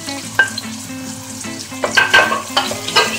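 Potatoes sizzle as they are added to a hot pan for a Turkish leek dish, a steady loud frying hiss with sharper crackling bursts and faint stirring clatter.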